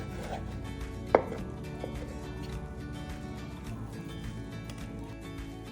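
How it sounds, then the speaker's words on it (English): A knife slices skirt steak into strips against the grain on a cutting board, with soft repeated cutting strokes and one sharp knock, all close and fairly quiet. "then you're gonna cut strips of steak like so"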